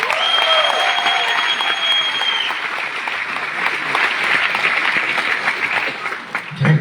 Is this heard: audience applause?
yes